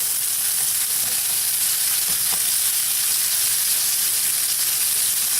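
A shrimp and cheese quesadilla fries in a pan, giving a steady, loud, even sizzle that fills the whole stretch with no talk.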